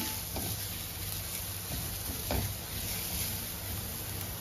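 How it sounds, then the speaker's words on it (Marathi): Onions sizzling and frying in a pan for pav bhaji, a steady close hiss of frying with occasional stirring scrapes, no talk. "कांदा जरा चांगला लालसर होऊ द्यावा झाला आपला"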